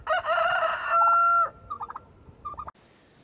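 Chickens on a farm plot where turkeys will clear cover crop: a loud rooster crow rings out up close, followed by scattered clucks and short calls from the flock, with no talking.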